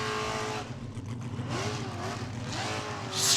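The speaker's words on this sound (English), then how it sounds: "Screaming engine." A formula offroad racing car at an Icelandic hillclimb event near Blonduos, its engine screaming at high revs with rising and falling pitch as it strains, loud and close, with a sharp burst at the end.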